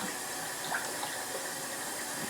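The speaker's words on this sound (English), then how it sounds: "I'm just going to soak them in the water while I'm cutting up the rest of the ingredients" Leeks soak in a kitchen sink full of water, a continuous soft rush of running or swishing water with a faint gurgle, steady and close, without any voices.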